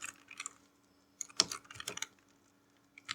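Short bursts of clicking keystrokes on a computer keyboard while working in an Excel spreadsheet, close and fairly quiet, grouped in quick clusters with brief gaps between them.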